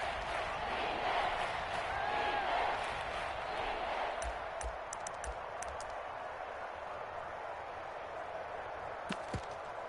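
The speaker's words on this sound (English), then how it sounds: "Crowd getting in it a bit already." Steady roar of a football stadium crowd in a video game, broad and continuous throughout with a few brief sharp accents near the end.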